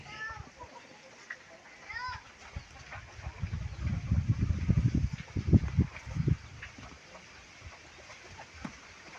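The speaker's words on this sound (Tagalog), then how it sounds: "Yan yung mga manok namin" Faint chicken calls and a distant rooster crow in an outdoor yard, with children's voices and low rumbling noise rising in the middle.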